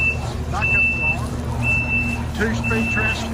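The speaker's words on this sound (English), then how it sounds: "Backup alarm." Steady intermittent high beeping of a backup alarm on a 2023 Kubota SVL97-2 compact track loader fitted with a forestry package, sounding in roughly second-long pulses over engine rumble and indistinct background voices.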